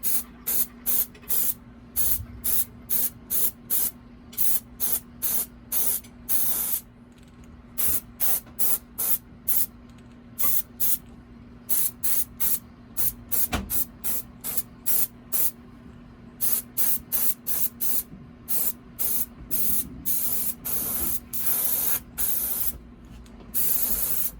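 Spray paint hisses onto handmade fishing lures in a long series of short bursts, each a second or two, close and steady with brief gaps between, and no talking.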